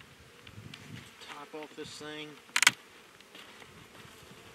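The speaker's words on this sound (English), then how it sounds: "there's a lot of bees in this one too" Honey bees buzz around an open hive during a backyard inspection, a soft steady drone close by while a voice speaks briefly over it and a short clattery scrape stands out partway through.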